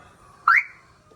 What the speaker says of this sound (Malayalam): എനിക്ക് ആ ഹോൺ ഭയങ്കര ഇഷ്ടപ്പെട്ടു